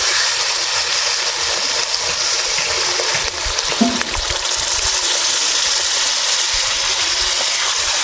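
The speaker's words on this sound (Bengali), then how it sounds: "এবারে ঝোলের জন্য জল দিয়ে দেবো।" Water is poured into a pan of browned goat meat curry cooked with potato and papaya: a steady, loud rushing hiss that runs unbroken through the whole stretch, with a brief splash partway through.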